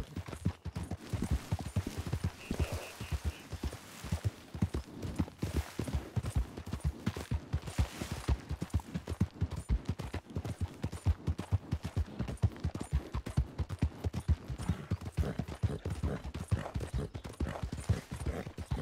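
Horse hooves in Red Dead Redemption II clip-clop in a steady, dense rhythm for the whole stretch, close and fairly loud, with a faint brief tone early on.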